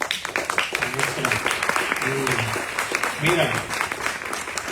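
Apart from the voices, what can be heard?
audience applause after a poem reading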